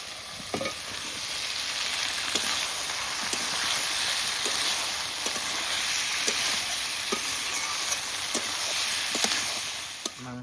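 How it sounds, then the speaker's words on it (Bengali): Fried potatoes and meat cooking in a wok of spice masala, a continuous close sizzle broken by regular sharp ladle clinks and stirring scrapes, with no one talking. "কষানো মশলার মধ্যে ভাজা আলু আর মাংস দিয়ে দিচ্ছি"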